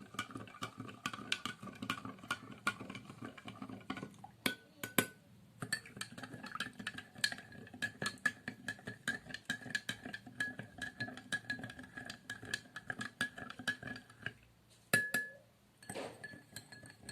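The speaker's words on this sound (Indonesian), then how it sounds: "Setelah itu kita aduk masing-masing gelas." A spoon stirs salt solution in drinking glasses, with rapid light clinks and taps of metal on glass repeating steadily for a long stretch, faint and close, with a few sharper knocks.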